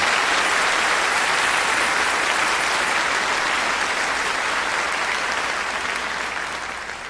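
A concert audience at a choro show gives steady, sustained applause for a band member, a thick, even wash of clapping that holds loud for several seconds and eases slightly at the end.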